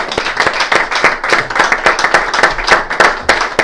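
A church congregation bursts into steady, dense clapping to acclaim Jesus Christ, many hands beating fast and close together throughout, with a faint murmur of voices underneath.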